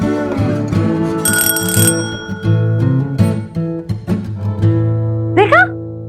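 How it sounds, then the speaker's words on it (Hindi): A bright electronic doorbell chime rings out near the end, a short rising-and-falling melody following a stretch of steady background music and tones. "देखा बज गई घंटी घंटी बज गई"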